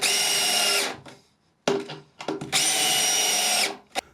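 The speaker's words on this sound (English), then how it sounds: "Throw a couple of screws up in this thing." A power drill drives screws into bunker timber in bursts: a long high whine, a pause, a few short stuttering pulses, then another sustained whine, loud and close.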